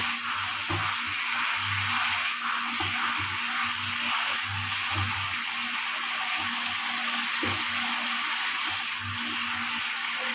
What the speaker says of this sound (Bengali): এবার আমি ঢাকনাটাকে খুলে আবার একটু নেড়ে দিচ্ছি।